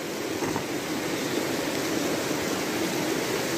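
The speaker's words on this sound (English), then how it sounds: "nice creek" A creek on the Pacific Crest Trail near Stehekin rushes steadily with a dense, continuous broadband roar, close and loud, without talking.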